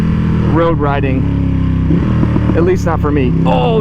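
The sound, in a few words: exhaust pops from Ducati Panigale V2 with Akrapovic exhaust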